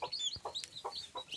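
A laying hen clucks in short, repeated bursts near a nesting spot, with a few sharp calls spaced about every half second, close and moderately loud with no voices.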